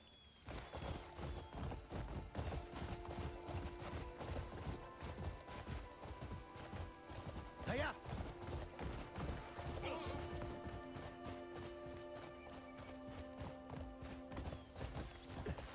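Steady rhythmic clip-clop of horse hooves on a hard surface in the video game Crimson Desert, repeating for the whole stretch, with soft background tones and a faint swoosh midway.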